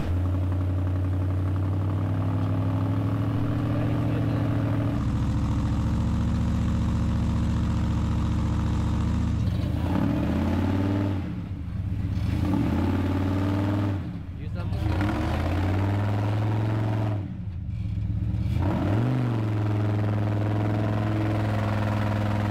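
A car engine roars at a steady high drone, then surges and dips through several rising and falling revving sweeps as the driver floors it, loud and close throughout.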